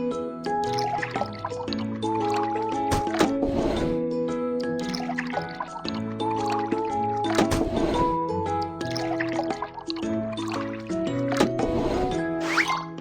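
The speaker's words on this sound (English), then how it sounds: "Pour liquid into the correct tank." Cartoonish liquid gurgles and sloshing squishes from a children's auto repair video game, liquid poured into a tank, repeating over a bright, playful musical backing, in several bursts rather than one steady pour.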